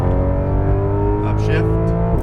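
Porsche 911 GT3 engine pulling hard on a smooth throttle application along a circuit's main straight, a loud, close, steady roar with rising harmonics and a brief shift near the end, while a voice talks over it.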